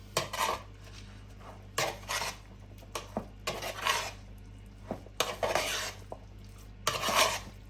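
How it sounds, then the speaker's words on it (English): A spoon stirs meat pie filling with barbecue sauce in a pan, giving repeated scraping, clinking passes against the pan at a steady rhythm, fairly close, with quiet pauses between strokes. "give it a good old mix"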